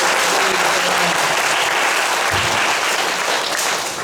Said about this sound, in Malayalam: സംഘത്തിനും ഒന്ന് കൈയടിച്ച്